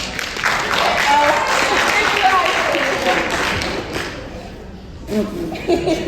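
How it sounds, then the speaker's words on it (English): A high school audience applauds in a sustained burst of clapping that fades after a few seconds, with scattered thumps and voices around it. "Give her a round of applause."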